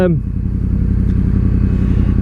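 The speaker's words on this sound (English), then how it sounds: "she burbles and stuff like she's doing now" A loud, close motorcycle idles with a deep, uneven burble from an open exhaust with no baffles, steady and throaty throughout.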